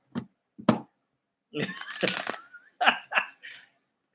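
A dog barks nearby in a home, a few short sharp barks followed by a longer ragged run of barking and yelps, fairly loud with quiet gaps between them.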